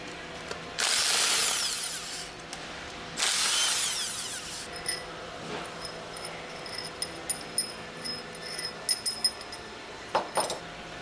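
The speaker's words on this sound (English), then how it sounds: "Use the impact wrench with a 10mm hex drive attached to remove the remaining 6 retaining" A power impact wrench fitted with a 10mm hex drive backs out retaining bolts while servicing an HTCK packing stack, two loud bursts of roughly a second each, followed by quieter clicks and metallic ratcheting.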